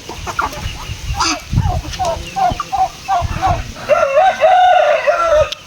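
Turkeys gobble in rapid, bubbling bursts close by, with other poultry clucking around them and a voice talking briefly.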